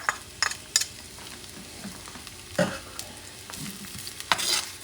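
A quarter of an onion, chopped, goes into a preheated pan with about a tablespoon of oil and is stirred, giving a low sizzle broken by scattered utensil scrapes and clicks, close and fairly quiet.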